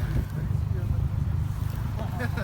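A car engine idling, a steady low rumble close by with wind buffeting the microphone and faint voices in the background.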